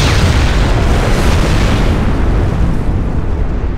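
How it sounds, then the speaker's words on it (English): A starship explodes in the space combat game Bridge Commander, a loud, sustained roaring blast that rumbles broadly and fills the whole stretch, fading only slightly toward the end. "Simulated enemy ship has been destroyed."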